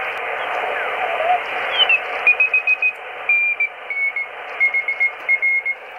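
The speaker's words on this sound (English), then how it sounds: "So there's a Morse code station" A Morse code signal received on a ham radio sounds as a string of clear beeping dots and dashes in steady rhythm. It rises over a constant band of radio hiss, loud and alone.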